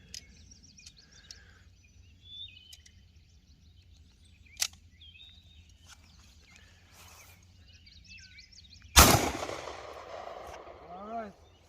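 A handgun fired while plinking, a pistol with a bit less kick than a Glock: one loud sharp shot rings out with a long decaying tail, after quiet outdoor ambience with faint bird calls.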